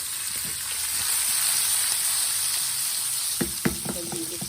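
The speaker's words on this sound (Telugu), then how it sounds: "బీరకాయ కూడా వేసి ఒకసారి తిప్పండి" Chopped ridge gourd and tomatoes with turmeric fry in a pan, giving a steady loud sizzle that gives way near the end to a short burst of spoon clatter and scraping as the pieces are turned.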